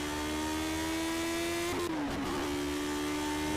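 A Lotus 78 race car on the Nürburgring holds a steady, droning engine note that briefly dips and wavers in pitch midway before settling back to a constant whine, with no talking.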